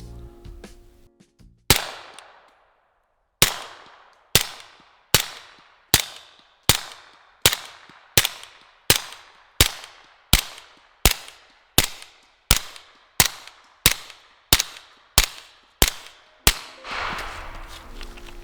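Suppressed subsonic gunshots from a short-barrelled CMMG firing Winchester 147 grain ammunition through a Jackal suppressor: about sixteen sharp, evenly spaced cracks, close and loud, each with a short decaying tail, fired alone in a steady rhythm.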